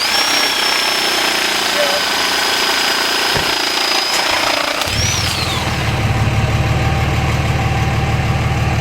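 A power hedge trimmer cuts through tree branches during yard work, its engine buzzing loudly and steadily throughout with a shift in pitch midway, close to the listener.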